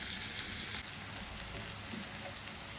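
Pieces of bitter gourd fry in oil in a pan with a steady, close hiss and sizzle that dips a little partway through and then carries on evenly.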